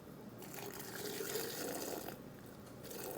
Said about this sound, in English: if I have to add just a teensy bit more water, I can